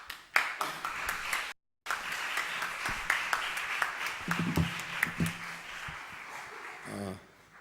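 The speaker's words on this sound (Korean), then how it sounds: "나오실 때 우리 박수로 환영하겠습니다." A church congregation claps to welcome a visiting pastor, a dense wash of hand claps filling the room with a few brief gaps and a short voice near the end.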